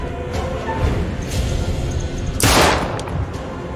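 Gunfire in the video game The Dark Pictures Anthology: Little Hope, a dense rumbling barrage with one loud, bright burst partway through over a continuous low roar of game noise.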